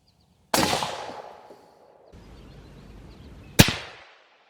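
A Mossberg rifle fires 7mm PRC match ammunition at paper plates outdoors, with two sharp loud reports about three seconds apart, each followed by a short rumbling echo.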